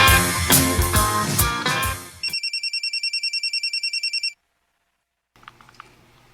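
A telephone rings with an incoming call: a rapid electronic trilling ring repeats steadily for about two seconds, right after loud music cuts off, then stops and is followed by faint background sounds.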